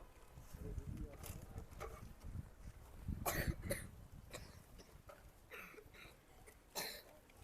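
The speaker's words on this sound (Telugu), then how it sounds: "ఏంటి కొంచెం దగ్గుతా ఉన్నారే" Children in a room cough now and then, faint and somewhat distant, with a stronger burst in the middle and a few later, over a murmur of background voices.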